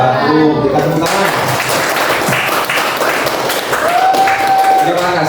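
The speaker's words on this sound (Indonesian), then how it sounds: "Kita tepuk tangan" Audience clapping after a group's presentation at a teacher-training session, a steady full burst of applause lasting several seconds with some voices mixed in.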